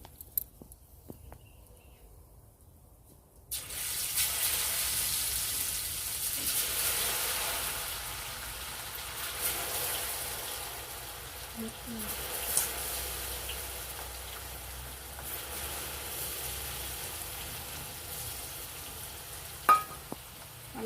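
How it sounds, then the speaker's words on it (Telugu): Garlic paste hits hot oil already frying cloves and cardamom in a pan, setting off a steady, close sizzle that runs on with a few small clinks of a spoon and no talk over it. "ఇగో ఇప్పుడు ఎల్లిపాయల ముద్ద"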